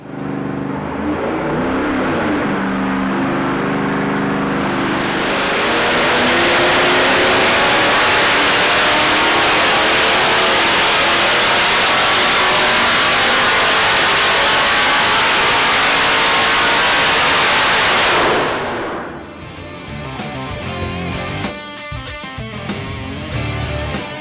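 A Chevrolet LS3 pushrod V8 engine on a dyno revs hard and holds at high rpm for over ten seconds, a sustained roaring drone, then drops off abruptly to a lower idle.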